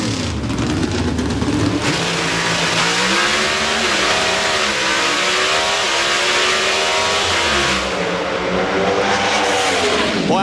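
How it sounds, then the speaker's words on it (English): NHRA drag racing cars at the 2004 Winternationals in Pomona launch down the strip with a loud, sustained high-revving roar that rises in pitch across the run, and no voices are heard over it. "Jed Coughlin was off the line first, but Kurt just had way too much horsepower"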